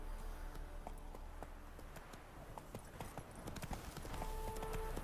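Roach the horse galloping in The Witcher 3, a quick steady clip-clop of hooves at moderate distance over a constant ambient bed, with a faint tonal game cue near the end.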